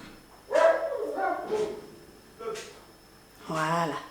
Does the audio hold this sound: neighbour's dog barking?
yes